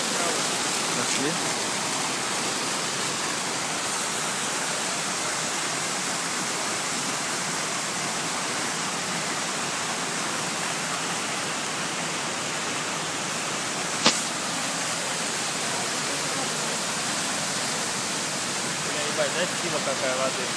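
Continuous hissing spray of high-pressure fountain jets in Paris splashing down, steady and close, with a brief sharp knock partway through and faint voices.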